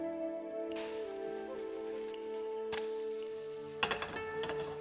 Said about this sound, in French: nous laissons nos crêpes cuire les deux côtés